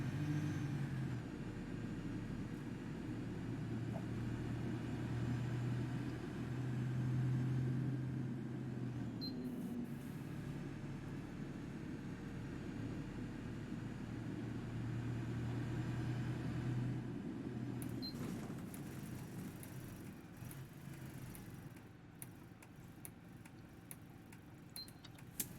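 A Wrights GB Hawk single-decker bus engine in the OMSI 2 driving game drones steadily at low pitch, rising and falling gently with throttle, accompanied by faint ticking and rattles, with no one talking.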